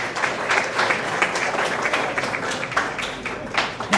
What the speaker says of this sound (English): Big round of applause for our very hard-working board.